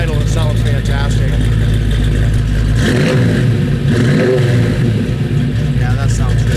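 A 1971 Camaro Z28 sits with its V8 burbling loudly, then the exhaust is revved a few times in quick rises and falls, with someone talking over the deep rumble.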